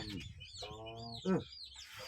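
A chicken at a traditional Thai wedding procession gives a few short, close clucking calls with a brief louder burst in the middle.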